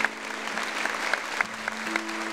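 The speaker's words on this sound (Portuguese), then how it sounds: "uma salva de palmas" A church audience claps during an evening worship service, a short burst of steady close applause with a held tone underneath.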